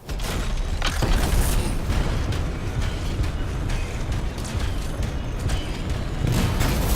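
A containment explosion of canisters in the video game Anthem sounds as a sustained loud, rumbling blast with crackling debris and repeated booming bursts, filling the whole stretch with dense low-end roar.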